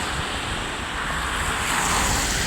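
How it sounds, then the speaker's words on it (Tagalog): Strong, cold wind blows outdoors on a snowy day, a loud, steady rushing noise with microphone buffeting that swells slightly toward the end. "Ang lakas ng hangin."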